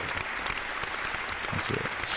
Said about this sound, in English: Round of applause for that one time, too.